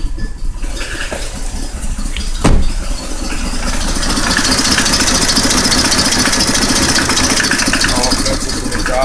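A Mazda6 with a swapped engine runs loud and close with an uneven, rough idle on startup, after a short thump near the start.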